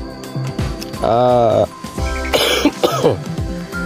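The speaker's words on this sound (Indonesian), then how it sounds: "aduh batuk dulu." A person coughs and clears their throat a few times in close succession, with short spoken sounds mixed in between.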